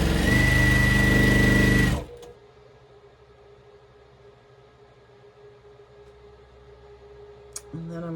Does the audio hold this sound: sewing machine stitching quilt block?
yes